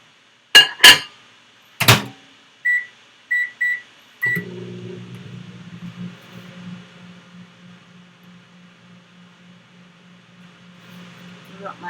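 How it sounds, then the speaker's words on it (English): A microwave oven heats a bowl of butter, garlic powder and dried parsley: several sharp clicks and short beeps from the keypad, then a steady low hum as it runs. "I'm going to heat it in the microwave to melt the butter"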